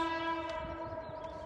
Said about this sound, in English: Love the train.